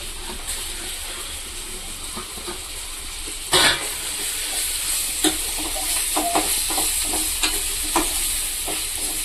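Chopped onion, tomato and curry leaves sauté over medium heat in a pan for a prawn kuzhambu, a steady bright sizzle with a spoon scraping and clinking now and then, one sharper knock partway through.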